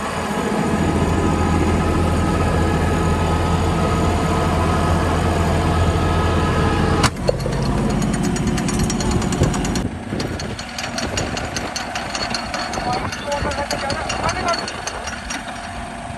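A New Holland 5620 CRDI tractor engine drones loud and steady while driving a rotavator through soil, then a sharp crack breaks in and the sound turns rougher and rattling; someone talks over parts of it.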